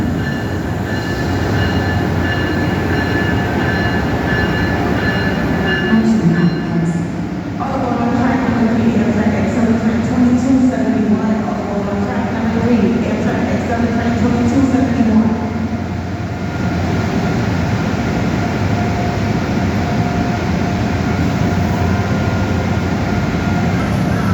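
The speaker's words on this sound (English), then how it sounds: "Arriving on track 1 is the New Jersey Transit 138 inbound train to Penn Station, New York" A New Jersey Transit inbound train pulls into a station platform on its way to Penn Station, New York. Loud continuous rumble and rolling wheel noise persist while a public address voice speaks over it.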